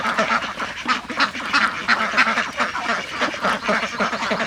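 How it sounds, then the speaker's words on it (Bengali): Domestic ducks quack busily while being fed a mixed mash in water, a dense chorus of overlapping calls from several birds close by, steady and continuous throughout. "এই দ্বিতীয়বার আমরা খাবার দিচ্ছি হাঁসকে"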